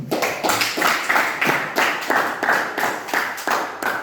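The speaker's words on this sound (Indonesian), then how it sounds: "Oke, aplaus dulu." A classroom of students claps together in a steady, brisk rhythm, about two claps per second, loud and close for four seconds with no talking.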